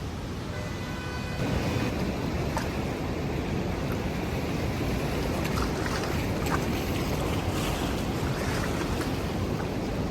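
Heavy river floodwater released from a dam rushes beneath a bridge in a steady broadband roar, continuous and fairly loud with no voices.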